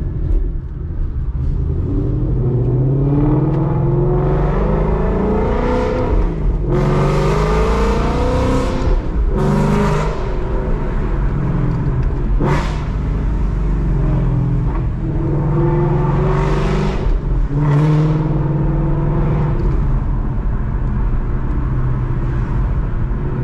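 A Mustang fitted with Kooks headers and a Corsa Xtreme exhaust drives close by, giving a deep, loud rumble that rises and falls through repeated gear pulls and sharp shifts, with no voices.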